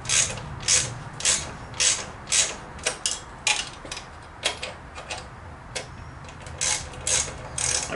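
A hand ratchet clicks in repeated quick bursts as lug nuts are tightened on a 21-inch wheel on a 2022 Red Line motorcycle project, the close, crisp pawl ticking coming in rhythmic strokes with brief pauses.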